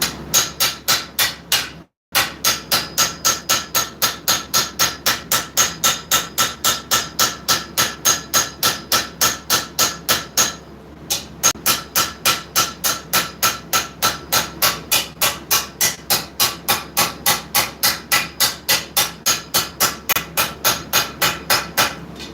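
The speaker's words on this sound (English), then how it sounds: "grab our planishing hammer. With these blows right here, all we're doing is just smoothing." A planishing hammer strikes hot forged knife steel in a fast, even run of ringing metallic blows, loud and near, with two brief pauses before the steady rhythm resumes; no one talks.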